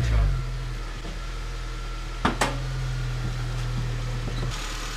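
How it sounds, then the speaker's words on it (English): A turbocharged KA24DE engine in a Nissan 240SX idles on first startup with a steady low rumble and loud intake drone, with a couple of sharp mechanical clicks partway through. "That intake is so loud."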